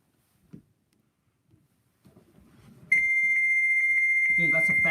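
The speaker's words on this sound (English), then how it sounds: "Dude, that's a fax machine." A fax machine answers a phone call and emits a loud, steady high-pitched tone that starts abruptly after a few faint thumps and rustles, then a warbling burst of handshake noise joins near the end.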